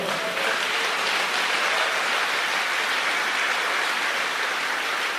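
A church congregation applauding together, a dense, steady wash of many hands clapping at full loudness for several seconds without pause.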